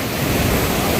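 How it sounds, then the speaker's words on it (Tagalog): Large ocean waves crash and surge in a continuous, loud roar of surf, with wind buffeting the microphone throughout. "Ang laki ng along yun ah."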